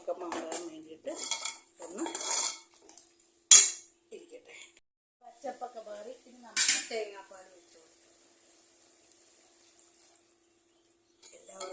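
A spoon scrapes and clanks against a pot while breadfruit curry is stirred, giving several close bursts of metallic scraping and one sharp clink, followed by near silence.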